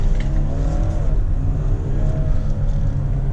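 A 2018 Audi Q8 50 TDI diesel engine roars under hard acceleration from a junction in dynamic mode, deep and loud, the revs climbing then dropping at a gear change before rising again.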